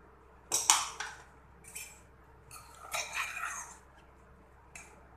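A few metallic clanks and clinks of a pressure cooker lid being opened, in short separate bursts against a quiet kitchen background.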